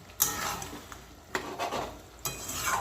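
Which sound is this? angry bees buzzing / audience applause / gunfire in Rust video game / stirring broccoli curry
stirring broccoli curry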